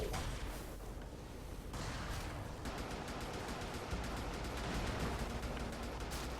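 Heavy booming blasts from a shotgun cannon on a mech in Brigador, a dense continuous barrage of cracks and rumbles with no clear pauses.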